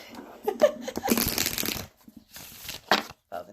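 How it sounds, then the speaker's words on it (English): Tarot cards are shuffled in a few quick riffling bursts with short pauses between, close and fairly quiet. "Shuffle one more time."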